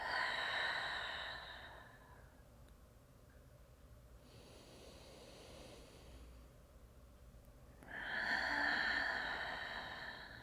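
A slow, audible exhale during a guided meditation practice, a long soft breath out that fades into quiet before a second breath rises at the end, breathy and close.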